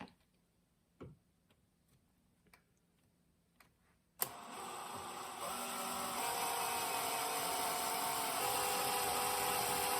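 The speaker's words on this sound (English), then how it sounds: "we're going to need to cut our 1 1/8 inch hole here in this piece of steel" An EZARC hole saw cuts a 1 1/8 inch hole in steel: a few sharp ticks, then the drill starts abruptly and runs as a steady, loud, close grinding whine for the rest of the clip.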